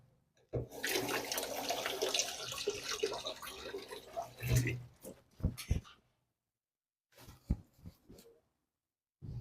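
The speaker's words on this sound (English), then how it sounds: "Okay, 3 habaneros. Rinse them first." A kitchen water tap runs steadily for several seconds while three habanero peppers are rinsed during dinner prep, followed by a few sharp knocks and clatters of handling, then a brief silence and more clattering.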